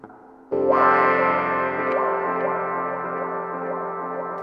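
Hohner Clavinet D6 run through a sound-on-sound effect pedal: after a quieter opening, a loud sustained chord strikes in and rings on with layered, echoing repeats and a slightly distorted, chorused buzz.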